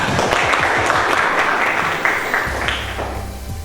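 A small group in a classroom coaching session claps together, a brisk and fairly close burst that gradually fades out, with no talking over it.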